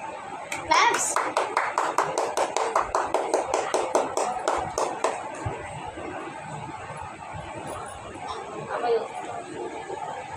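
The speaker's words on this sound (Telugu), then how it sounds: "క్లాప్స్." A small group claps in a quick, steady rhythm at a home party celebration, the claps fading after a few seconds while children and adults chatter throughout.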